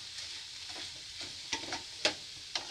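Chicken curry masala with ginger and chilli sautéed in oil and stirred, a soft steady sizzle broken by a few crisp spatula clicks near the end; fairly quiet and close, with no talking.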